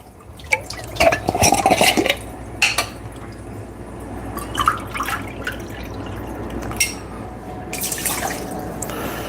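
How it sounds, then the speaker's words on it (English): Beef bone broth pouring into a cooking pot, a liquid splash and trickle with intermittent drips, loudest near the start and continuing in softer bursts, close by in a kitchen. "And then I go with my beef bone broth."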